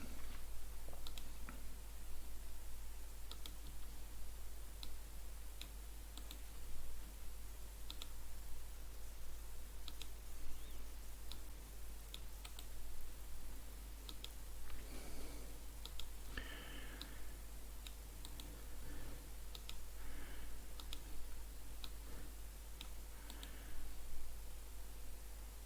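Computer mouse clicks sound in a quiet room while Excel columns are named, a scattered series of small sharp clicks over faint background hiss, irregularly spaced across the stretch, with no speech.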